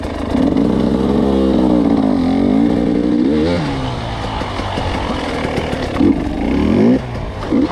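Motorcycle engine revving hard and steadily during off-road bike control practice, loud and close, with pitch rising and falling as the throttle is worked, plus a few sharper blips near the end.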